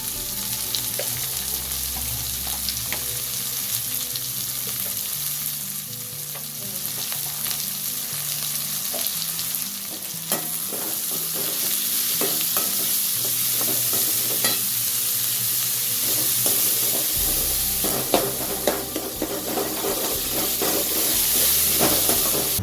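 Onions sauté in oil in a pan for rava kichadi, giving a continuous close sizzle with frequent stirring scrapes and clinks throughout. No one talks.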